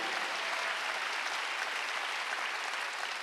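A church congregation at a Korean Wednesday worship service claps in a steady, even wash of applause, moderately distant and uninterrupted, with no talking over it.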